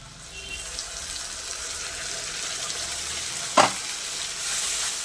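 Raw spices tipped into onions already frying for a mutton curry, a soft continuous sizzle that brightens into a sharper hiss after a short clatter near the middle, close and moderately quiet, with no talking.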